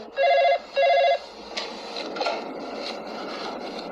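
Two short bursts of an electronic telephone ring sound near the start, evenly spaced, followed by quieter room noise with light knocks and shuffling.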